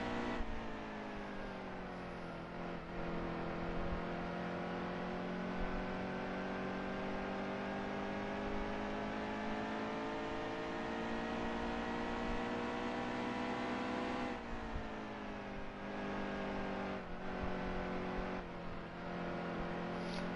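NASCAR Heat 2 race cars run the final lap at Phoenix in an Xfinity Series season finale, a loud continuous high-pitched engine drone holding steady, dipping briefly with a gear change midway, then climbing again; no talking.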